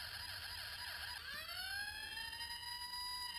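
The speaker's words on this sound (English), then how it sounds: "Now it sounds like a fire engine siren." A toy circuit kit's electronic fire engine siren wails in rapid sweeping cycles, then shifts to a slower rising tone, steady and alone with no talking.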